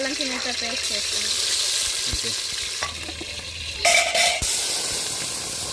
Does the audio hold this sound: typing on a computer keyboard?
no